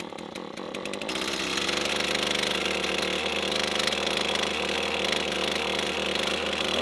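A gas pole saw with a pull-start, primer bulb and choke starts on the first pull after months of storage. Its small engine settles into a loud, continuous buzzing idle close by, without pauses.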